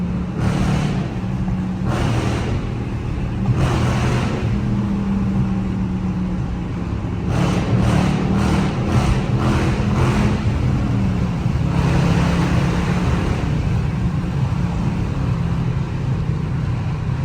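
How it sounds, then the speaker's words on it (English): A loud Dodge Charger R/T engine drones steadily and heavily while driving through a tunnel in Philadelphia, with echoing low rumble and periodic surges as the throttle opens. "Tunnels be the best when you got a loud car."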